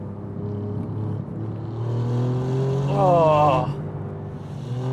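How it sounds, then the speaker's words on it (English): A turbocharged Alfa Romeo Quadrifoglio accelerates hard, engine note rising steadily in pitch and loudness from inside the cabin, while a man exclaims over it. "It reminds me of the 488 in the way that it delivers power so suddenly once the turbos spool up."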